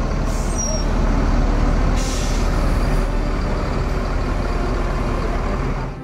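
Loud, steady hiss of a bus's air brakes releasing on a Minang luxury coach at a depot, engine rumbling underneath, with a brief higher squeal near the start.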